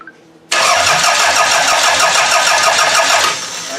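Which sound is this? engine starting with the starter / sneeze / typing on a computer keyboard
engine starting with the starter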